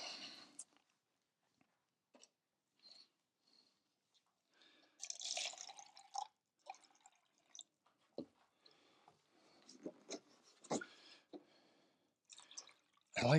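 Water rinses dyed canvas, with scattered soft drips and wet splashes coming in short, irregular bursts separated by quiet gaps, close by and fairly faint.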